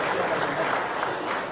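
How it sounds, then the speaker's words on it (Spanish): Audience applauding the guests at a presentation of an anthology in Tuxtla Gutiérrez: steady, dense clapping that fills the whole moment without a break, with no voices rising above it. "Un aplauso para ellos."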